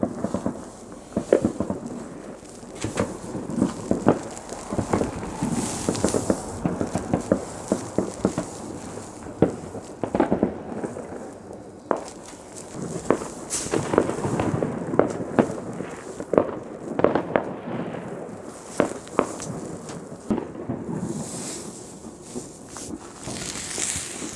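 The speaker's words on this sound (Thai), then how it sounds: "ตอนนี้เริ่มจุดประทัดแล้ว" Firecrackers go off on New Year in irregular volleys of sharp bangs and crackles, some near and some farther off, continuing over about twenty seconds with no voices.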